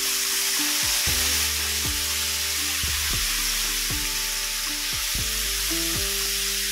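Sardines fry in hot oil with a dense, continuous sizzle and crackle, loud and close, while a soft tonal melody plays faintly underneath.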